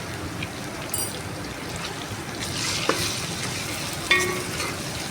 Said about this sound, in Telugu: అల్లం వెల్లుల్లిపాయ పేస్ట్ నూనెలో వేగింది. ఇప్పుడు 1 స్పూన్ పసుపు వేస్తున్నా.